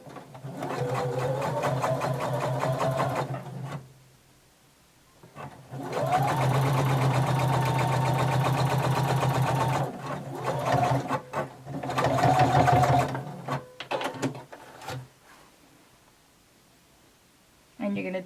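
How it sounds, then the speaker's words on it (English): A sewing machine stitches a jumpsuit casing close to its pressed edge, running in several sustained bursts of rapid mechanical whirring separated by short pauses and a few brief stops. "we're going to stitch really close to the pressed edge"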